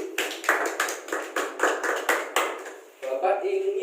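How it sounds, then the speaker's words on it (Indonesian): Children in a sixth-grade maths class clap together in a steady, rhythmic pattern of sharp, close hand claps, ending with a shift into voices talking. "Tepuk tangan untuk Febri."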